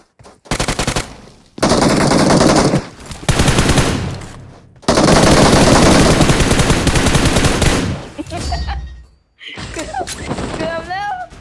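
Heavy automatic gunfire in the PUBG video game, long sustained bursts separated by short gaps, loud and close, with talk over the later part.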